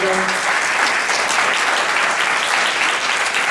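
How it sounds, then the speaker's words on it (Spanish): A loud, dense round of applause from an audience at a talk on Plato's Phaedrus, steady and full from start to finish with no break. "un aplauso muy grande para María Angélica"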